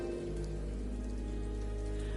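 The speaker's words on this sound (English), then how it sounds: "But then the rain began to fall." Steady rain pours down in the video game Ender Lilies: Quietus of the Knight, a dense, constant hiss that runs unbroken throughout.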